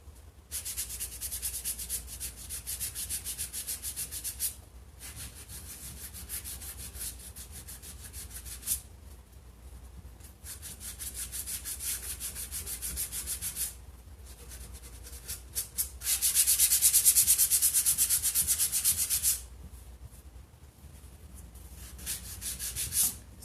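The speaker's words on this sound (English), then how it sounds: "I'm holding the sandpaper and I'm just putting the pressure where I want the paint to come off." Hand sanding painted wooden furniture with worn 80 grit sandpaper: steady, close rasping strokes in long runs with brief pauses, a harsher, louder burst near the end.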